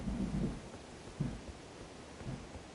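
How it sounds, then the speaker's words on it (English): Low, muffled rumbles of thunder roll under a steady wash of storm noise and rain, distant and fairly faint, with no voices. "Oh, I hear thunder."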